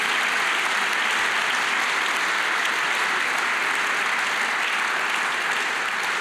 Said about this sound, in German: Das ist allein schon einen großen Applaus wert